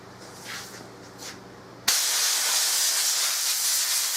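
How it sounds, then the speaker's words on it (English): A blast of compressed air hisses loud and steady through the barrel of a Remington 700 rifle undergoing a Mannlicher conversion, kicking in abruptly after a few quiet seconds of faint background noise. "compressed air really blows it out"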